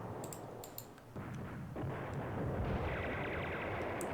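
Artillery bombardment in the strategy game Command Ops 2 rumbles as a continuous low booming barrage, with distant thuds layered into a steady roar and a few faint clicks on top.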